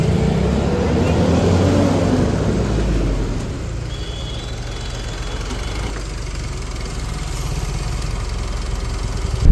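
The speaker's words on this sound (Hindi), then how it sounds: "अब देखना रेस दूंगा।" Mitsubishi Pajero engine with a faulty solenoid valve, revving sluggishly as the rpm hesitates to climb; a steady, loud low rumble that eases slightly midway, with no talk over it.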